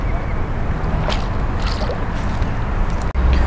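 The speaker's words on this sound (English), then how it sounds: "as you can see the little blade spinning there. Makes a lot of noise" A topwater fishing lure with a spinning blade churns across lake water, producing a continuous sloshing, gurgling splash with wind noise in the background.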